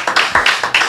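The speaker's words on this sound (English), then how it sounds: "Let's clap for Bria." A few people clapping close by, a short burst of about half a dozen sharp, uneven hand claps.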